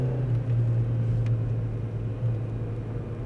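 Steady low engine drone from a 2003 VW Jetta with the 1.8T engine, pulling in third gear after a downshift from fourth, a constant hum with a faint whirr above it and no talk.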